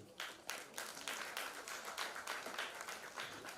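At a hackathon grand finale and award ceremony, an audience claps in a fairly quiet, somewhat distant round of applause, with individual hand claps distinct in a brisk, uneven patter that continues throughout.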